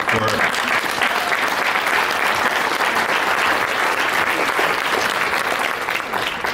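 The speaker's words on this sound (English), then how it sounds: "So can we give a loud, thunderous clap" A summit audience breaks into loud, thunderous applause for an early childhood education coalition in New Mexico, a dense, sustained roar of clapping that holds steady from start to finish.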